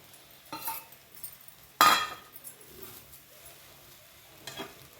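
A utensil stirring egg fried rice in a pan, with soft scraping and a sharp metallic clink partway through over a faint sizzle, close and without talk.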